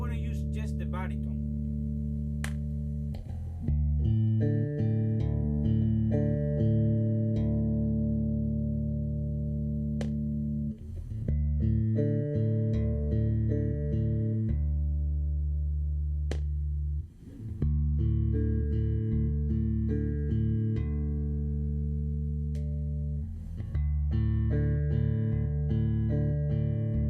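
BC Rich Mockingbird baritone guitar played slowly, low sustained chords and single notes ringing with effects, pausing briefly between phrases, close and fairly loud with no spoken voice.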